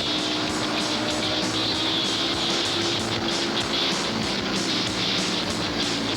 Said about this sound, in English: I hear another 3-cylinder behind me, another 3-cylinder BSA